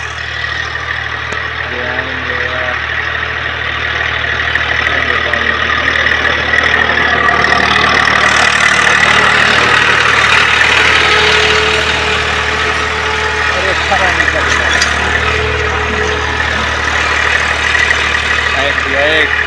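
A tractor engine runs steadily through field ploughing for wheat sowing, a loud continuous drone with low rumble and knocking that swells midway, heard alongside faint background voices.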